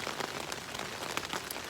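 Rain patters on the fabric of an REI Quarter Dome SL1 tent, scattered close taps and drips over a soft, continuous shower, fairly quiet and irregular.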